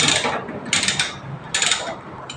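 A ratchet tightens the battery lock nut on an electric motorcycle, giving three quick bursts of rapid clicking close up, with short pauses between them and no talking.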